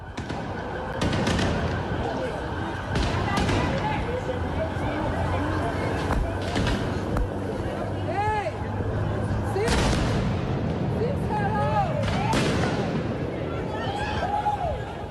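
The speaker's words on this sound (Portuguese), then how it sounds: "Também é possível ouvir barulhos de explosões" Loud, chaotic street noise during unrest as protesters try to storm a federal police building, with repeated sharp explosion bangs and booms throughout, crowd voices and shouting underneath, some whistling tones rising above.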